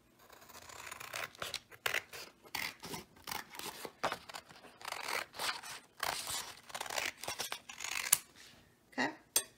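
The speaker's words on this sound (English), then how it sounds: "you're going to take your packet and you're going to cut it in half down the center" Scissors snip through a paper packet in a quick run of close, crisp cuts with short pauses, quiet and alone without any talk.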